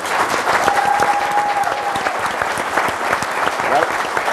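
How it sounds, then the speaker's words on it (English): An audience at a city mayor and aldermen meeting applauds, steady dense clapping from a room full of people, with a brief whistle and some background voices. "We have a round of applause for them all."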